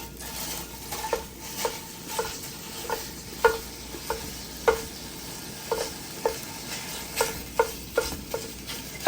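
Ground breakfast sausage frying in a pan while a utensil breaks it up, giving a steady soft sizzle under regular sharp scraping taps roughly every half second, close and moderately loud, with no talking.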